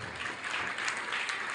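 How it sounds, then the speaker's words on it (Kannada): Loud applause from an audience at a school function, a dense, steady burst of many hands clapping together that continues without a break. "ಜೋರ ಚಪ್ಪಾಳೆ ಸರ್"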